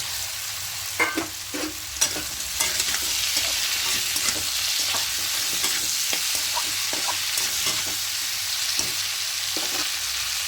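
Cauliflower and potatoes with turmeric fry in a pan, a steady hiss of sizzling oil broken by frequent scrapes and knocks from a stirring spatula.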